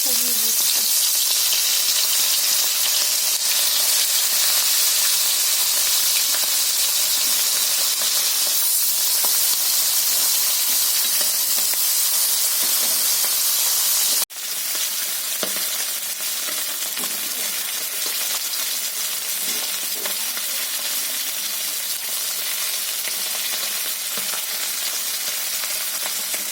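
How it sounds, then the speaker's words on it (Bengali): Hilsa fish fries in oil in a wok, a loud continuous sizzling hiss that drops slightly partway through and then carries on steadily, with no talking. "তেলের মধ্যে আমি মাছটা দিয়ে দিচ্ছি।"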